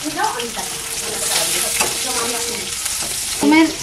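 Garlic and seven or eight green chillies fry in a pan, a steady close sizzle with stirring scrapes throughout and a brief louder burst near the end, no voices.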